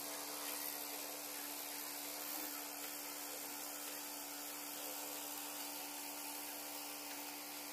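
A rotary evaporator runs on its vacuum source during solvent evaporation, giving a steady, faint broadband hiss with a constant low tonal hum and no change throughout.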